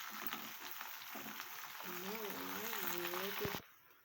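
Curry leaves and onion frying with golden garlic in oil for an oil-brinjal curry, giving a steady broadband sizzle with a voice speaking over it before the sound drops away near the end.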